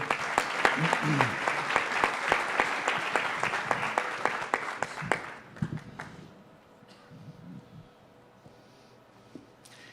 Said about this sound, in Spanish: El padre Peláez, un aplauso, bienvenido